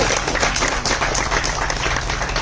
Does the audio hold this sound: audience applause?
yes